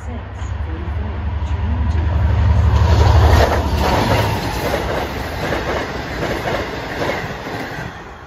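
Long Island Rail Road train rolling past at Elmont with loud, close clickety-clack of wheels over rail joints and a low rumble, fading slightly as it continues; faint speech is present.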